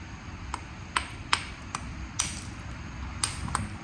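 Stone being flintknapped, with the platform edge of a pretty rock beveled by a series of about eight sharp, clicking strikes and scrapes at an irregular rhythm, close and fairly quiet over low background rumble.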